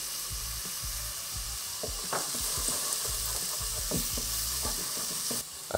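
Diced onion and cumin seeds (jeera) fry in oil in a pot, making a steady close sizzle broken by repeated light clinks and scrapes of a stirring spoon.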